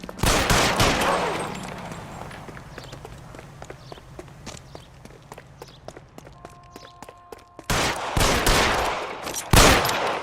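Gunfire erupts in an L.A. Noire shootout, with loud bursts of shots at the start, scattered cracks and footsteps through the middle, then heavy loud bursts again near the end.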